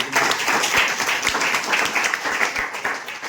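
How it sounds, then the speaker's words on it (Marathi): An audience claps in an evenly paced rhythm, a roomy wash of many hands with regular sharper beats about three or four per second, and a faint voice underneath. "टाळ्या वाजवा"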